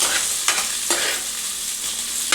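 Onion, green chilli, carrot and egg stir-fry in a pan for wheat-flour noodles: a steady bright sizzle with a few scraping stirs of the spatula, close and alone without any talk.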